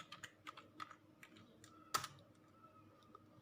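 Computer keyboard typing terminal commands for the APT package manager: a quiet run of irregular key clicks with one sharper, louder keystroke midway, no talk.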